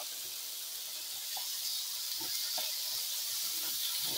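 Garlic sizzles in a hot pan for a pork stir fry, a steady broadband hiss held at an even level with a few soft clicks and pops scattered through it.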